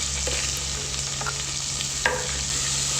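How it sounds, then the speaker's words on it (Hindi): Long-sliced onions fry in hot oil with a loud, steady sizzle, broken by a few light scrapes and taps as they are stirred. "प्याज को हम तेल में कर देंगे मिक्स।"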